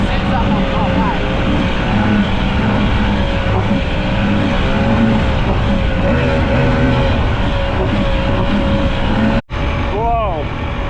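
A rubber boat tears across choppy water at high speed, its engine droning steadily and loud with broadband spray and slap throughout, briefly cutting out near the end before resuming; voices talk over it.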